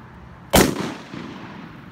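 A Mossberg Shockwave 20 gauge shotgun fires a slug at water jugs: one sharp, loud blast with a short decaying tail, then quiet outdoor ambience.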